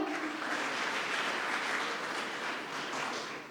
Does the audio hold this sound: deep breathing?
no